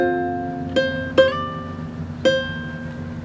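Fingerpicked ukulele phrase, mixing open strings with fretted notes, a handful of plucked notes ringing out clearly on their own, with no voices.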